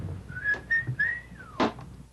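A record-setting hobbyist whistler whistles a short, bright melodic phrase of several sustained and gliding notes, clear and close, with no talking.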